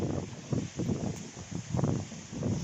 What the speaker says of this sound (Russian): Смотрите, какой штормяк, блин.